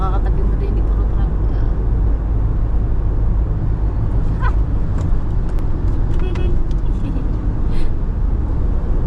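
Trucks drive alongside on a Philippine road, heard as a steady, loud low rumble of engines and tyres from inside a moving vehicle, with faint voices underneath.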